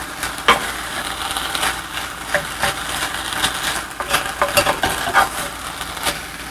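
Pork filling for pate chaud cooks over medium-high heat in a pan while being stirred, giving a continuous sizzle with irregular scraping and clattering strokes close by.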